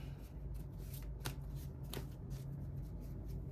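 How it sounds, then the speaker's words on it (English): Quiet riffling and snapping of tarot cards being shuffled, a few sharp flicks over a soft ongoing rustle. "What kind of a shuffle was that?"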